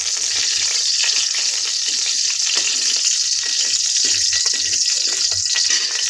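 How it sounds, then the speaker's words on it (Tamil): Fenugreek seeds fry in hot oil for a village-style crab gravy, giving a loud, continuous close sizzle that holds steady throughout with no talking. "இப்போ நான் இதுக்குள்ளே கொஞ்சமாக வெந்தயத்தை சேர்த்துக்கொள்கிறேன்"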